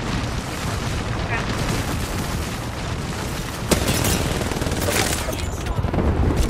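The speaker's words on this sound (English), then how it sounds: "You're getting shot at right now." Dense, continuous gunfire and booming blasts from an Apex Legends firefight roll on throughout, with a sharper impact partway through, while players' voices talk faintly underneath the shooting.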